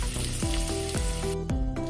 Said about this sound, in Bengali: সব সবজি গুলো এইভাবে আমি ফ্রাই করব। এরপর গাজর দিলাম